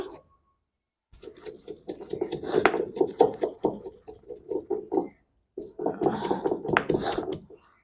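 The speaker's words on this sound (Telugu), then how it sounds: "మిక్సీలో వేస్తే తొందరగా ఇద్ది కానీ మిక్సీలో కంటే ఇలా రుబ్బాలంట" Rhythmic rasping and rubbing of stone against stone as a paste is ground by hand, a steady back-and-forth grinding that pauses briefly and resumes, close by.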